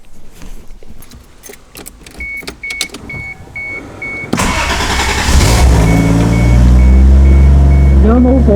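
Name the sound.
Toyota MK3 Supra engine with new exhaust, no silencers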